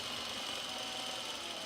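A sewing machine stitches stretched elastic onto a T-shirt ruffle, making a steady, continuous whirring hum at low-moderate level with no pauses across the short span.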